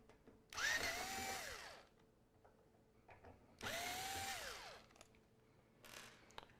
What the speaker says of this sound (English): I'm going to take the 2 screws out on this side